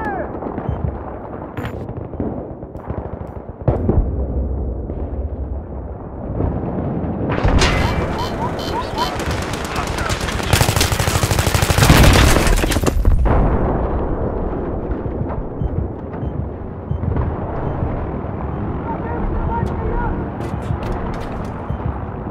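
Machine gun fire in Battlefield 3 on the Tehran Highway map, with loud rattling automatic bursts and booming blasts that swell into a dense barrage midway, then fall back to scattered shots and rumbling battle noise.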